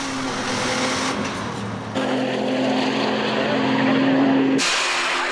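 A Golf GT24 race car with a 5-cylinder 2.5-liter turbo engine at the Nürburgring 24-hour race, its engine droning loud and steady with pitch shifts between gears and a sharp cut near the end.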